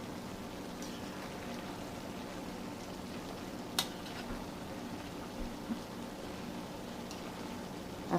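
Collard greens cook down in a pan with a soft, steady low simmering hiss, broken by a few faint clicks and a sharper tick near the middle and end.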